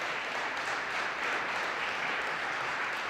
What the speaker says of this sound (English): let's listen to the applause he's getting now